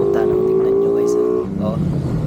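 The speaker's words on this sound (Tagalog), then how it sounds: "TMX 155 pala tong motor ni Idol tingnan nyo lakas" A TMX 155 motorcycle engine revs loudly and steadily up close, its pitch shifting and dropping near the end, with voices faintly under the roar.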